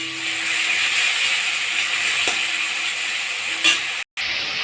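Tomato with ginger-garlic paste fries in a pan for a spicy fish curry, a steady close sizzle and hiss running throughout with one faint clink and a brief cut near the end.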